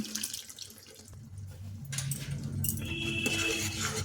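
A little water pours into a pan of sprouted moong curry: a steady splashing trickle builds and continues to the end, with light metallic clinks of utensils nearby.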